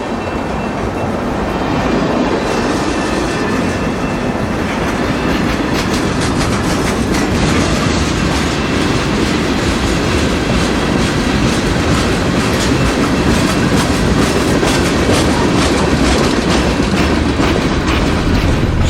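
A mixed freight train rolls past on the rails at close range, a loud, steady roar with rapid clickety-clack from the wheels that holds for the whole stretch, no voices heard.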